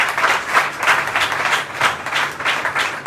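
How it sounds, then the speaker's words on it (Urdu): An audience applauds for Maria during a pastor's sermon; a steady, dense round of clapping fills the space continuously for a few seconds with no voices over it. "آئے ماریا کے لیے تالیاں بجاتے ہیں۔"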